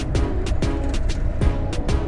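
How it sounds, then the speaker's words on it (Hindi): The petrol tank cap on a moving Honda Activa scooter rattles, producing sharp clicks every few tenths of a second over a constant low engine hum. "पेट्रोल का जो ऊपर का ढक्कन है ना, उसका आवाज़ आता ही है।"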